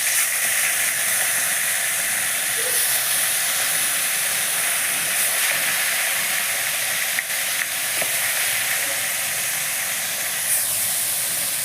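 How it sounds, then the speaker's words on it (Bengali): Koi fish fry lightly in hot oil with a loud, continuous sizzling hiss that holds steady the whole time, marked only by a couple of faint pops and no speech. "তো আমি মাছটাকে হালকা করে একটু ভেজে নিচ্ছি।"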